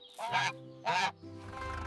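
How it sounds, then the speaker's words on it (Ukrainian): A domestic gander honks twice, loud and close, with a short pause between the calls. "Правильно, це гусак."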